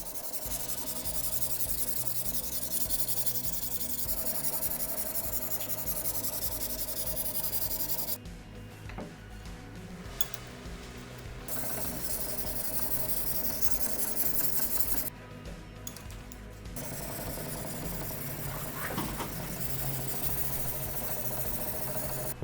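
A large knife is drawn across the elbor (CBN) stones of a Profile K03 guided sharpener, making a steady, close abrasive rasp. The scraping stops for two brief pauses.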